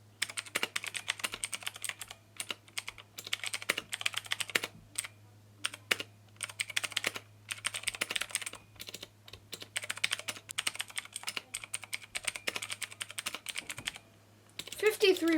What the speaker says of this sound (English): we're going to be doing a typing test on it